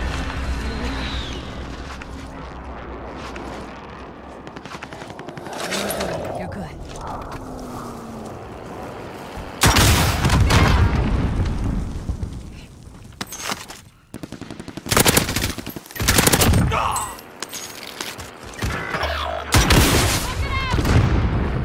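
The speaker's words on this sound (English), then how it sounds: "Enemy precision airstrike." Explosions from an enemy precision airstrike in the shooter game Call of Duty Warzone. Quieter game noise and gunfire give way to a series of loud, close booms and blasts with brief pauses, and a voice speaks early on.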